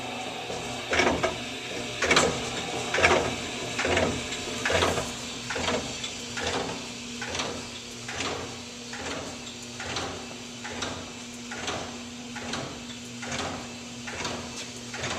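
A Turbula TB10 mixer sitting on a skid thumps and clanks in a regular cycle, its repeated knocks coming a little faster as its speed is raised, with a steady mechanical hum underneath.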